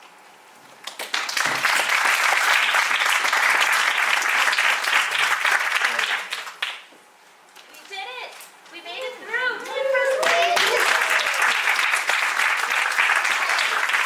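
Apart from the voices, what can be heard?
audience applause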